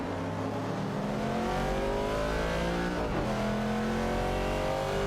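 Race cars in an AI-driven racing video game roar steadily at high speed, several engine tones rising and sliding in pitch as they accelerate and shift, continuous and loud with no voices.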